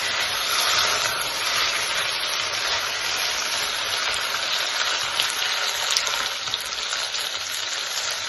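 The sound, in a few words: pouring hot water into pot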